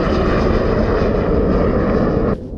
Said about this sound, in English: I think that was pretty close to a fighter jet